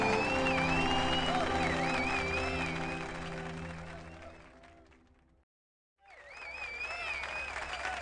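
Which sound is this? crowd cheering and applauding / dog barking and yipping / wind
crowd cheering and applauding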